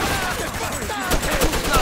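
Rapid gunfire in Mafia 2, a quick burst of repeated shots crackling at close range amid a busy, noisy mix.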